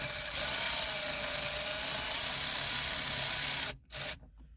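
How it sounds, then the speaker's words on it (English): Milwaukee M12 Fuel cordless wrench driving screws into the plastic housing of a C5 Corvette air conditioner unit; a steady, close whirring runs for nearly four seconds, cuts off abruptly, then a brief final burst follows. "I'm too lazy to use a regular socket wrench, so I'm going to use my Milwaukee M12 Fuel"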